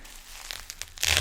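Plastic wrapping on a product package being torn open by hand without scissors: a few crinkles and small rips, then a louder, close tearing crackle at the end.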